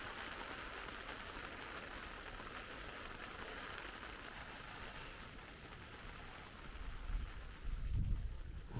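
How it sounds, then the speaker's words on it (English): Steady rain patters down over a campsite in Victoria, Australia, a continuous wash of close drops that swells slightly near the end, with a few low thuds in the last seconds. "it's raining again"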